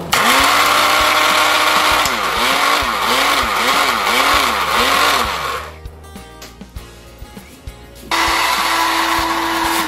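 An electric blender whirs loud and steady as it purees onions into juice, its motor pitch rising and falling in rhythmic surges before cutting out briefly, then roaring back to a continuous spin.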